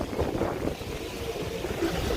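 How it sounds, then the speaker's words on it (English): Wind blows on an outdoor Las Vegas street, a steady rumbling buffet across the microphone with low gusting swells throughout. "Oh, it's getting windy."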